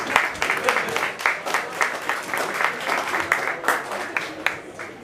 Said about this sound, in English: And just a round of applause for Roy, please.